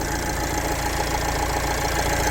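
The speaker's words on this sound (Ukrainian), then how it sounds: "чиста робота двигуна." A Fiat diesel car engine with one turbo idles steadily nearby, a continuous rough, knocking rumble with no change in pace.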